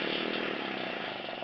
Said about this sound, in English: But don't run your planishing hammer